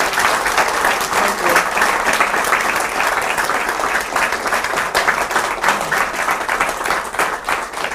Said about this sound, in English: if we can give our guests a round of applause